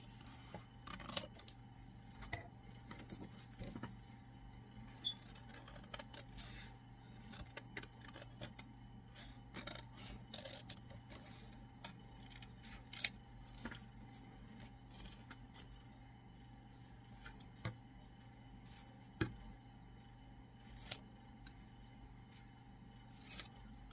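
Scissors snip through waterslide decal sheets in a quiet room, a faint series of short, sharp cuts scattered irregularly over a low steady hum, with no talking.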